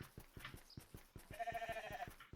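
Sheep bleating in a fantasy crafting video game, a short wavering bleat that rises over steady rhythmic game background sounds, moderately loud and alone without talk.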